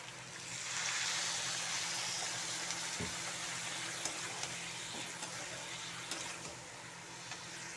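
Water pours into a pan of broccoli curry as a steady broadband wash of splashing and sizzle, close and continuous for several seconds with no talk.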